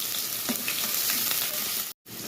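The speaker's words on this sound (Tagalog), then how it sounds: "Gisa po natin ang sibuyas" Onions sauté in a pan at the start of a sinigang na milkfish, giving a steady, crackling sizzle that runs unbroken until a brief cutoff near the end.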